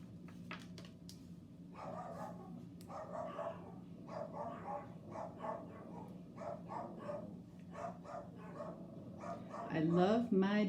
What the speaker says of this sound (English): I love my dogs, even when they bark ridiculously at nothing